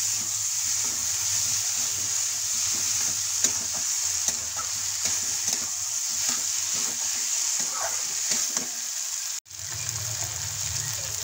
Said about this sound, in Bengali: মটর আর মশলা একটু ভালোভাবে কষিয়ে নেব বা ফ্রাই করে নেব।